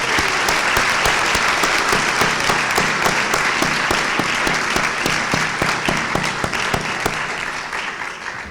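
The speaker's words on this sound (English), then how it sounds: "one more round of applause for everyone participating" Vigorous applause from the audience at a senior honors convocation, thick and continuous with sharp individual claps standing out, easing slightly near the end.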